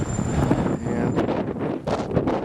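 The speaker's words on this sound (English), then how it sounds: "Quite a windy storm." Strong wind gusts buffeting the microphone outdoors during a Rhode Island snowstorm, a continuous rough roar with surging bursts and no talk.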